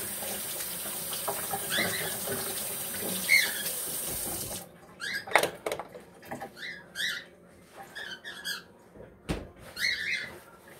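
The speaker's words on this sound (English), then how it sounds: "Okay, wash my hands." Hands are washed under a running kitchen tap while pork belly is prepped for Sunday dinner, first as a steady hiss of water, then as broken splashing and patter as the hands move through the stream.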